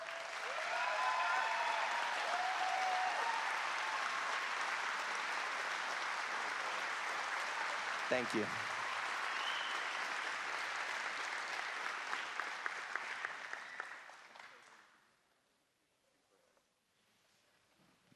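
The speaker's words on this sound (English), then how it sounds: "give John a round of applause" A large crowd at an archery tournament final gives a long, dense round of applause and a standing ovation that holds steady, then tapers off and fades to near silence, with a brief spoken thanks near the end.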